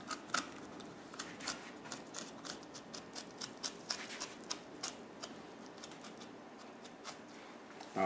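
A pin bone being snapped out of a whole fish while it is filleted gives a run of faint, close crackling clicks and small snaps, quiet throughout with no talking.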